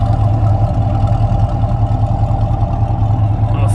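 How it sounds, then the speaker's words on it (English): A truck's exhaust idles steadily at close range, a low, even rumble with a continuous hum and no variation in pace across a few seconds. "You can hear the exhaust."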